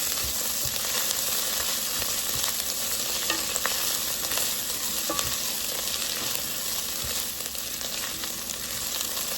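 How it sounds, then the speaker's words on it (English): Tomato paste sizzles in a soup pot, a steady dense crackle and hiss with occasional faint spoon scrapes, close and continuous without any talk. "we're going to go ahead and let it start cooking so we can build up that richness of flavor"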